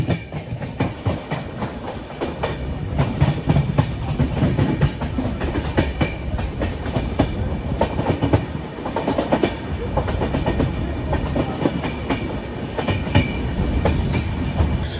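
SMVT Bengaluru to Guwahati Superfast Express running near Malda Town, with steady clickety-clack of wheels over rail joints and a continuous rumbling roar heard from aboard the moving train, loud and unbroken throughout.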